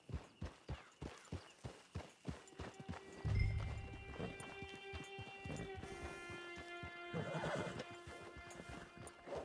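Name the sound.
horse hooves and whinny, from video game Red Dead Redemption 2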